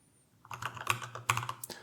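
Typing on a computer keyboard while editing in the Helix editor, with a quick burst of close, crisp key clicks in an uneven rhythm.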